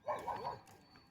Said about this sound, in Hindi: कुत्ते भौंक रहे हैं गाइस।